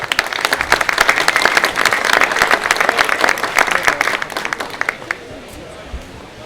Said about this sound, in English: Let's have a big round of applause for our beef judge today.